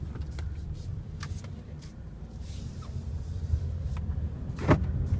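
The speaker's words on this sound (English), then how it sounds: "this is Tommy driving, and we're gonna drive the Cadillac that we have, the SRX, and so let's go" Cadillac SRX driving along the winding Hana Highway on Maui, heard from inside the cabin as a steady low engine and road rumble with a few faint clicks and a soft thump near the end.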